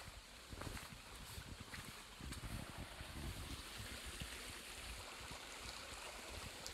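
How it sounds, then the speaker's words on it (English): Flowing creek water rushes and babbles steadily nearby at a trail crossing on the Appalachian Trail, with some wind buffeting the mic and faint footsteps or movement. "First creek crossing."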